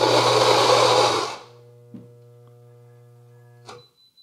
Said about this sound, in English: a fellow Ode was trying to grind these beans